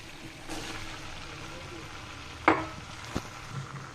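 Chickpeas go into a simmering beef curry and are stirred, with a quiet sizzle beneath a couple of sharp spoon knocks and soft stirring sounds.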